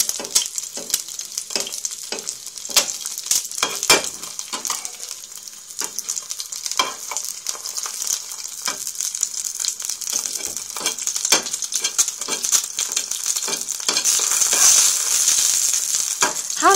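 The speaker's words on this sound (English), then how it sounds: "If you drain the pan to the side slightly and use the spatula to flick the oil on top, it will help cook the egg." An egg fries in oil in a pan, giving a steady close sizzle and crackle. Sharp clicks and scrapes from a spatula flicking oil over the egg cut through it, and the spitting grows a little stronger toward the end.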